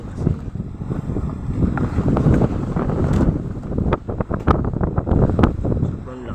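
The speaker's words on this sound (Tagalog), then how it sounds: "Sobrang lakas ng hangin." Strong wind at sea buffets the microphone in a steady, loud roar, with scattered thumps and clatter from a boat.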